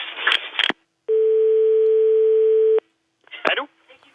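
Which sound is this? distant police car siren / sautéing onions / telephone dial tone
telephone dial tone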